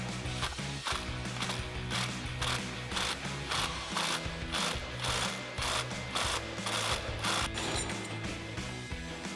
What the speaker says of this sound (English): we're going to use a 16 millimeter socket and pop this out